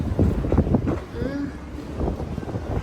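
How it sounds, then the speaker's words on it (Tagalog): Gusty wind buffets the microphone outdoors by the water, a low rumbling roar with faint voices underneath. "ang ganda ng hangin dito guys"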